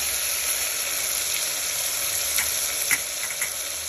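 Washed moringa leaves hit hot oil in a pan while a moong dal khichdi is being cooked, producing a steady, close sizzle with a few scraping stirs near the end.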